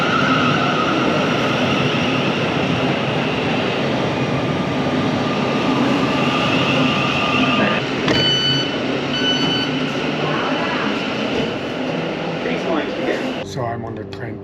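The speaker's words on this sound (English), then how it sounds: "So I'm on the train to Horsham" Inside a train running from Gatwick Airport to Horsham: a steady loud rumble and rolling noise throughout, with a few short electronic tones near the end.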